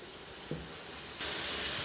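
Masala-marinated chicken meets a hot pan, and a soft hiss jumps to a loud, steady sizzle that carries on to the end after a quiet, low background.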